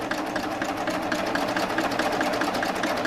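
A Baby Lock Triumph sewing machine runs steadily at close range, its needle chattering in a fast even rhythm while stitching pillow fabric wrong side up, with no pauses and no voices.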